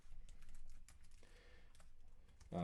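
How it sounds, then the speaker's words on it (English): Rapid typing on a computer keyboard, a dense run of light clicks and key taps at moderate distance, fairly faint, with a louder thump at the very end. "typing away over there"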